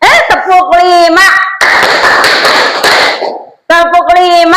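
Students in a classroom clap together in a short unison rhythm, a loud burst of many hands lasting under two seconds, set between stretches of a teacher and children speaking.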